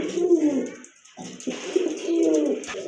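Pigeons coo in close, repeated rolling bursts with a brief pause between, soft throaty warbles clearly up front.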